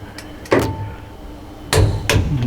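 Torque wrench tightening the plunger seal assembly on a Microfluidics M700 Series Microfluidizer processor to 110 foot-pounds, giving two sharp metallic clicks about a second apart over low background hum.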